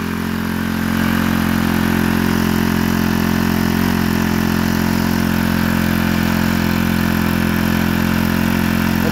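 A Honda GX25 small four-stroke engine idles too high, a steady buzzing drone that settles in after about a second and holds loud and even, with no talk over it.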